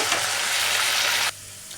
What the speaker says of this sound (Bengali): মাছটা প্রায় ভাজা হয়ে গেছে আমি তুলে নেব